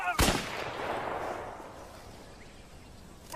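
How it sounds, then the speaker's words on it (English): A single rifle shot goes off in a rural standoff, a sharp, loud crack followed by a long, rolling echo that fades away. "Max, put down the rifle"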